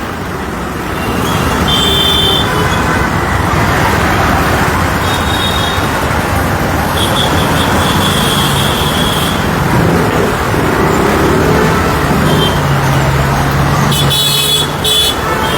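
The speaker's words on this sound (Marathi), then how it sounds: "ट्रॅफिक आहे ना, मजा येते ना" Steady road traffic in Chandivali, with a broad rumble of engines and occasional horn toots near and far running throughout, loud and continuous, with no speech.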